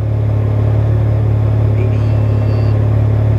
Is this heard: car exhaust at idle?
yes